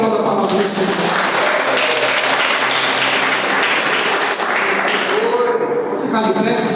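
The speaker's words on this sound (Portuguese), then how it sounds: "Se você puder aplaudir a palavra do Senhor." A church congregation applauds after a sermon, loud and close, a thick wash of clapping holding for several seconds with voices mixed in.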